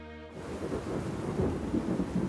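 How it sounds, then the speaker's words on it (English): A thunderstorm on a mountain with heavy rain and strong wind, heard as a loud rolling rumble of thunder over dense rain noise, continuous and close. "Heavy rain fell and a strong wind blew."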